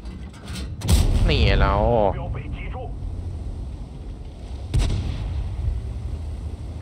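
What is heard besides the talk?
tank cannon fire in World of Tanks video game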